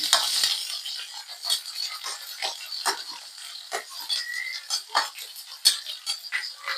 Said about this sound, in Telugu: ఉల్లిపాయ పచ్చిమిర్చి వేగేంత వరకు కలుపుకోవాలి